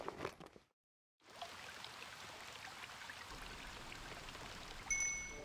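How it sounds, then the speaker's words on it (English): A shower runs in the game Blue Archive, a steady hiss of falling water that starts after a brief silence and continues evenly at moderate level. "Man, I haven't had a decent hot shower in forever."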